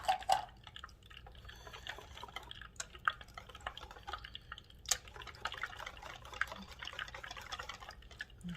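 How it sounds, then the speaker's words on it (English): Water poured into a bowl of chili wing batter, heard as faint drips and a light trickle over a low background hum, with no talking. "Just want to put a tad bit more water in there."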